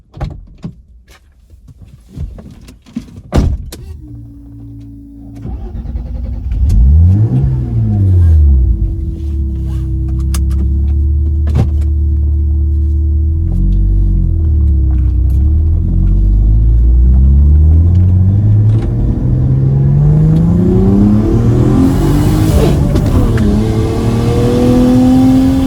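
A tuned, boosted family sedan with 18-inch wheels starts up and drives off on a test drive, its engine rumbling and revving through rising and falling gear pulls, loud and close from inside the cabin with no talk.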